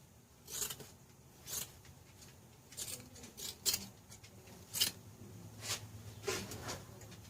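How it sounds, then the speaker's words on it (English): Large Fiskars scissors cut into a Honda Reflex scooter seat's upholstery in about a dozen short, crisp snips spaced irregularly, faint and close. "Where's my bigger scissors? Here they are. My Fiskars."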